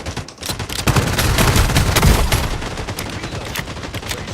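Dense, sustained gunfire in the shooter game FragPunk, a continuous roar of overlapping shots and impacts with no clear gaps and no speech.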